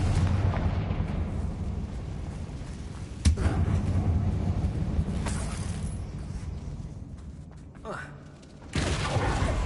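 A Confringo blasting spell from Hogwarts Legacy goes off in a loud, sharp burst, followed by a sustained rumbling roar with another softer burst later, under continuous game sound.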